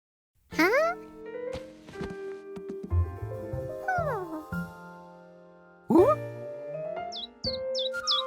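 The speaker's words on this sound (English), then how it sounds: "he woke up to the sound of happy birds." Cartoon birds chirp happily in the morning. A quick run of four bright, rising chirps comes near the end, after several sliding cartoon vocal sounds and some clinking.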